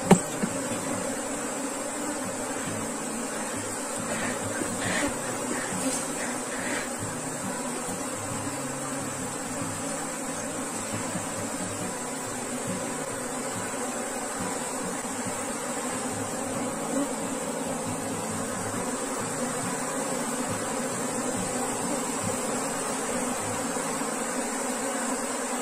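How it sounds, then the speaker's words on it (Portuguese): Many bees drone steadily around beehive boxes, a dense, continuous buzzing swarm close by that holds at an even level throughout. "tem muitas abelhas"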